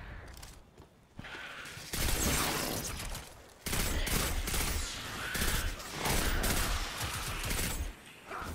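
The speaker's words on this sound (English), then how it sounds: "I'm just shooting stuff." Rapid, loud bursts of gunfire in the video game Destiny 2, sustained volleys in several stretches separated by brief lulls, dense and close with no talk.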